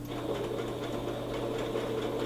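An electric sewing machine running steadily close by, a fast even mechanical stitching hum with a faint ticking rhythm, with no voices.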